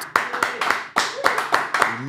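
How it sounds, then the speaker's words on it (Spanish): Sharp, close hand claps ring out in quick succession, about eight in two seconds, as an audience welcomes a guest speaker. "recibamos con un fuerte aplauso a Chris Agront"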